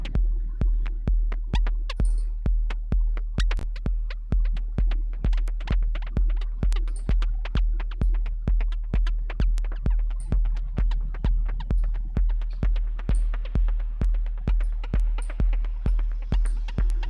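Regular throbbing percussive thumps repeat about twice a second for the whole stretch, each hit trailed by a short echoing delay tail, loud and steady with no talking.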